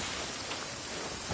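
Steady rain pouring in the Genshin Impact video game, a dense even hiss of drops on surfaces with no breaks, heard alone for a short stretch.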